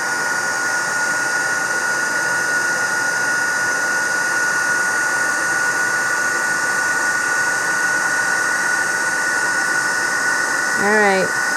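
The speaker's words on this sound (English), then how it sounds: "I love to watch the embossing powder melt." A heat tool blows a loud, steady hot-air roar up close while melting embossing powder on a tri-fold window card, with a short voice near the end.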